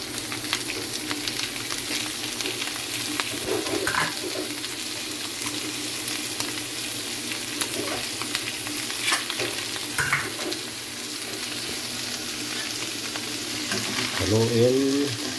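Squash frying in a pan with ground pork sizzles steadily while a spatula stirs it, scraping and clattering every few seconds, with a faint voice near the end.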